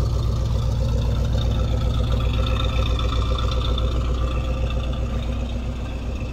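Pontiac Grand Prix 2+2 engine idling through a brand-new stock muffler, a steady low rumble with a slight lumpy pulse, close and even, quieting a little toward the end, with no speech.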